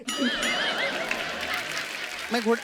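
A horse neigh sound effect rings out as a sharp, wavering whinny near the start, with a shorter whinny at the end, set amid comedy talk-show chatter and speaking voices.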